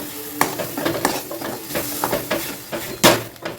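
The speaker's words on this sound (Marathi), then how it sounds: "भाजी जी शिजवून घेतली होती तर आता ती घालते" Cooked, blended spinach puree goes into a hot pan with a sizzle, broken up by several sharp stirring scrapes and spoon knocks over a steady low crackle, close and moderately loud, with no talking.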